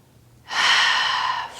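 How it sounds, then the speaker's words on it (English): A single deep breath during a gentle yoga twist: a quiet pause, then a long, steady airy exhale that holds for about a second before easing off, close and clear with no talking. "Keep breathing."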